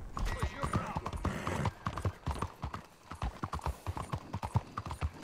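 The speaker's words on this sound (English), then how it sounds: "You just stole a horse." Horse hooves clip-clop steadily in Red Dead Redemption 2 as a stolen black Arabian is ridden, a quick regular beat of close, sharp strikes with a brief whinny among them.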